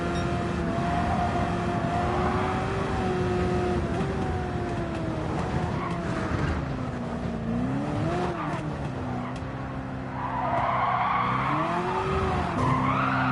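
Car tires squealing and skidding through drifts in Gran Turismo 7, a sustained wavering screech that bends in pitch over steady engine drone, loud and continuous from start to finish.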